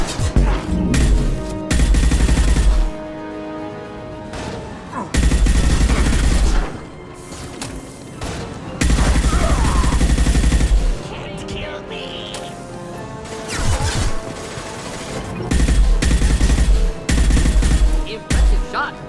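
Bursts of gunfire from the video game Mass Effect 2 come in several loud, dense volleys separated by short quieter gaps, with game sounds between them.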